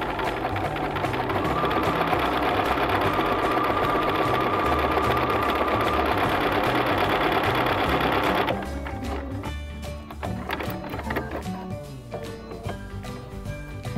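A sewing machine runs continuously while gathering one fabric onto another, with a loud, steady rapid whir for about eight seconds before dropping to quieter clicks and handling sounds.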